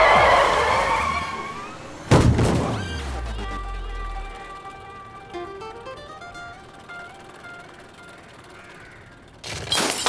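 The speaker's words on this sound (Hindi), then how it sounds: "अबे गाड़ी आ रही है।" A car drives up and skids to a stop outside a school, with a sharp loud screech followed by a long tire squeal and engine whine that fades, then another burst at the end.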